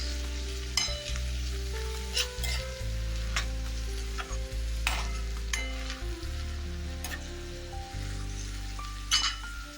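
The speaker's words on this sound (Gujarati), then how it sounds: "હવે આપણે આ ઝીણી સમારેલી ડુંગળી નાખી લઈશું એને પણ આપણે ગોલ્ડન બ્રાઉન કલરની થાય ત્યાં સુધી સાંભળી લઈશું" Finely chopped onion sautés in a pan toward golden brown, with a continuous sizzle, scraping stirs and a few light clinks over steady background music.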